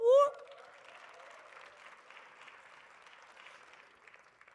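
A comedy club audience claps faintly and thinly, the sparse applause trailing off slowly after a short vocal whoop at the start.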